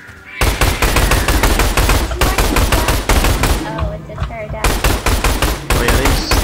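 A turret in the game Orion: Dino Horde fires machine-gun bursts in loud, rapid, sustained volleys, with a couple of short pauses between strings of shots.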